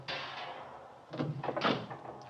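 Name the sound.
folding bed being pulled out from behind a door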